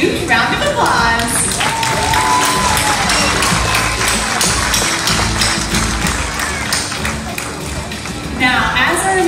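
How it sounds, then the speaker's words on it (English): An audience applauds at a SeaWorld San Diego dolphin show in a large outdoor stadium. The dense, loud clapping runs throughout beneath an amplified announcer's voice and background show sounds. "You all deserve a huge round of applause."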